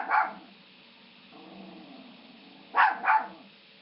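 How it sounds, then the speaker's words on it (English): Dogs bark in short, sharp bursts nearby: one bark at the start, then a quiet stretch with a low whine, then two quick barks close together near the end. "The dogs are going to bark, right?"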